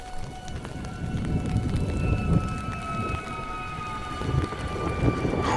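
Steady rain patters and hisses in a dramatic The Walking Dead scene, a moderate wash with faint rumbling beneath, under a soft tonal music bed.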